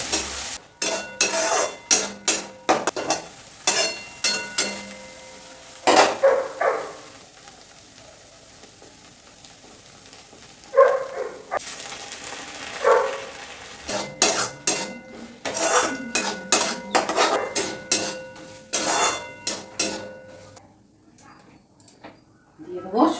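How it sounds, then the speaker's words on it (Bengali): Vegetables frying and being stirred in a pan, with repeated sharp metal utensil scrapes and clanks in bursts over a soft sizzle, close by, with speech between. "এবার এটাকে একদম করে ভাজা ভাজা করতে হবে"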